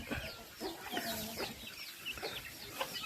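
Chickens cluck in repeated short bursts on a rural farm that also keeps ducks and geese, faint and close, with no talk in the moment.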